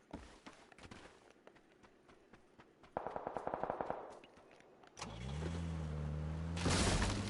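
Rapid 7.62 rifle fire in a S.T.A.L.K.E.R. game crackles in quick bursts, followed by a vehicle engine revving up loudly.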